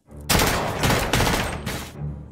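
A sound-effect burst of rapid gunfire in a narrated action scene: a loud cluster of overlapping shots in quick succession, then a clipped cutoff with no talk.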